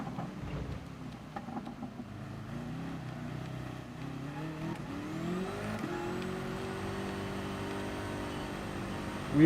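A race car wheelspinning in third gear at about 160 km/h on a wet Red Bull Ring short circuit in a racing game, its engine note climbing in repeated rising whines before holding at a sustained high pitch.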